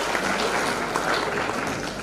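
A stand-up comedy audience breaks into a dense, steady wash of applause that holds at an even, loud level for about two seconds, with no voices on top.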